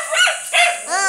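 An old dog gives a few close, loud barks and yips in quick succession, ending on a whiny, whimpering note.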